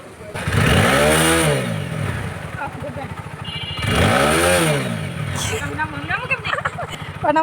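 A motorcycle, a friend's new bike, revs hard twice, each rise and fall of the engine loud and close, with people talking over and between the pulls.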